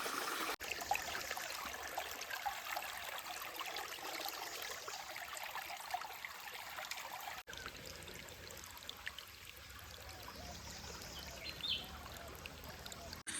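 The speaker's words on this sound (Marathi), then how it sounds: "विहिरीचा ओव्हरफ्लो होऊन पाणी बाहेर येतो" Continuous rushing of water overflowing from a well, a steady broadband wash like a small stream, with a brief cut partway through.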